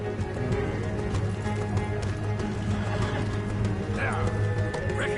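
Rhythmic clip-clop of horse hooves in the video game Red Dead Redemption 2, over a low rumbling background, with a brief whinny and bird chirps near the end.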